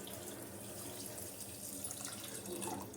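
Half a litre of water pours steadily into a vessel of sugar, a continuous splashing hiss that stays even throughout, close by with no voices.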